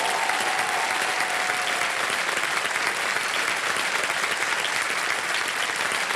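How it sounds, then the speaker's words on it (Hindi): A studio audience on the quiz show Kaun Banega Crorepati bursts into applause for a contestant, producing thick, unbroken clapping that stays loud and uniform from start to finish. "तालियां बज जाए इनके लिए"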